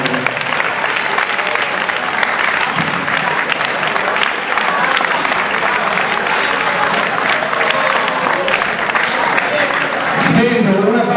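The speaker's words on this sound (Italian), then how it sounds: "fatemi un grande applauso" An audience gives loud, sustained clapping at the prize-giving ceremony of the 2012 Spring Cup tournament, with a dense, steady roar of hands and crowd noise while someone speaks over it.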